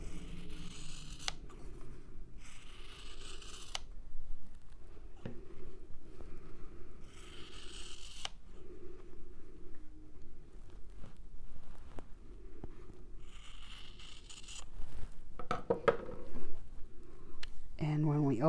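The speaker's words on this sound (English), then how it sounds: "now you want to take your scissors and you want to cut on this line right here." Scissors snip through fabric marked for a half square triangle quilt block, a series of crisp, close cuts separated by pauses, with sewing-table rustling and moderately quiet handling noise.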